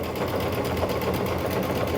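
A sewing machine runs steadily while stitching a summer quilt, its fast continuous whirring and needle clatter close and even throughout, with no talking.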